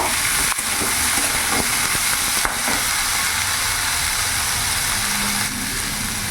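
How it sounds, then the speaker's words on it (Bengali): Peas, capsicum and carrot frying in a pan while being stirred, a loud continuous sizzle and hiss with scraping stirring knocks running throughout. "এবার ভালো করে নাড়াচাড়া করে আমি ভেজে নেব।"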